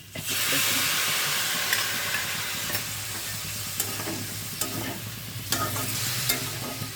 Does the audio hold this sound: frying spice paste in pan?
yes